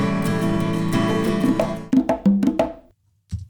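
Musical audio clips playing back in Logic Pro X, one sustained passage blending into a second with a longer crossfade, followed by a few plucked tones that fade to silence before a short final hit.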